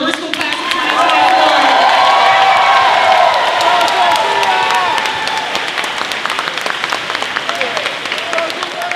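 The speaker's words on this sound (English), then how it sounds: "one last round of applause for our Lower School class of" A crowd applauds steadily at a school moving-up ceremony, loud and close, with scattered cheers rising then the clapping thinning out toward the end.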